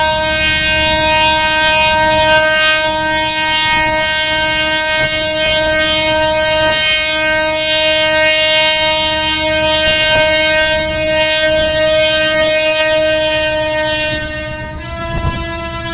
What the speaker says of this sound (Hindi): अभी आप जो इस ट्रेन को देख रहे हैं, इस ट्रेन का नाम है ट्रेन ए लास न्यूबस।